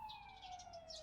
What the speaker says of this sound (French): C'est quoi cette ambulance?